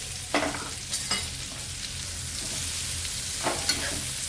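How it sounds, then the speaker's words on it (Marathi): Onion and vegetables frying in hot oil over a high flame give a steady, close sizzle, with a few scraping stirs breaking through; no voices. "फास्ट गॅसवरतीच मी भाज्या फ्राय करून घेणार आहे."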